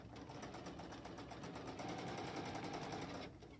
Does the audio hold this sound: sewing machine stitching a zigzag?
yes